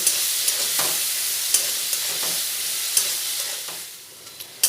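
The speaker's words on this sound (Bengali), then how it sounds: "এবারে আলুগুলো খুব ভালোভাবে ভেজে নেব।" Potatoes with salt and turmeric fry in hot oil for ghugni, a continuous sizzle broken by occasional scraping strokes of a stirring spoon, with no talk.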